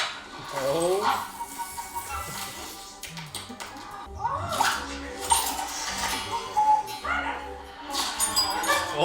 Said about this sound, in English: How is the dog attacking her?